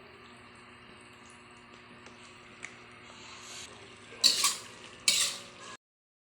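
Pork intestine adobo stirred in a pan: a quiet scraping and clinking of a utensil against metal, followed by two louder, brief scraping bursts near the end.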